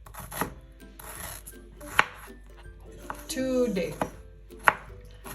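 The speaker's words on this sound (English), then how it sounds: "watch my ginger cutting skills" Knife chopping ginger on a board for a spicy Kerala fish curry, irregular crisp thuds and scraping strokes, close by, with a brief spoken word.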